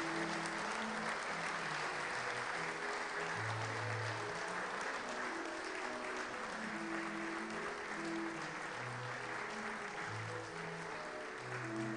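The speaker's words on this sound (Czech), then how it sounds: "Poprosím velký potlesk." Audience applause at the Hradec Králové city annual awards ceremony, a continuous patter of many hands, fairly faint and distant, with soft background music tones.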